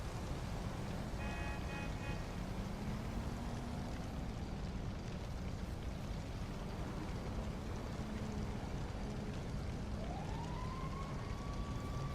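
Fire brigade sirens in GTA V, a wailing, rising and falling tone that continues throughout over a dense rumbling background, fairly faint and drawing nearer.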